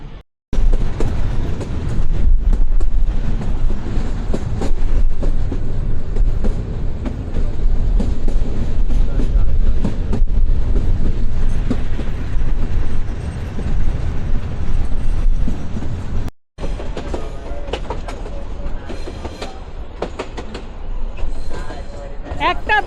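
A passenger train on the Dinajpur to Lalmonirhat line rumbles loudly and steadily from onboard, with rhythmic rail clatter and muffled voices mixed in, briefly cutting out before the rolling noise continues.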